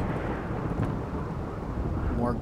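A lightning storm in RimWorld sends out a continuous low thunder rumble with the hiss of rain layered over it, heard steadily and fairly loud for a couple of seconds.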